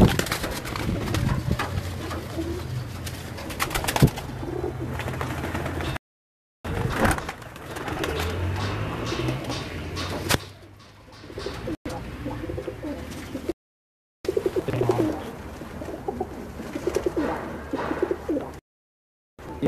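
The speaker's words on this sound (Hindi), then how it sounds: "ये तमाम कबूतर गुजरात जा रहे हैं जी।" Pigeons coo on a rooftop in repeated low, throaty rolling calls, fairly close, broken by short silent gaps and mixed with a few wing flutters and other bird sounds.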